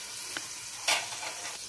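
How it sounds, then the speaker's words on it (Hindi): Garlic ginger paste sizzles in hot oil in a pan for chicken pulao, giving a steady crackling fry with a sharp, louder burst of spatter near the middle. "अब हम इसमें डाल देंगे 1 टेबलस्पून लहसुन अदरक का पेस्ट"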